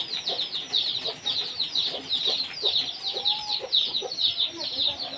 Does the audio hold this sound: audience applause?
no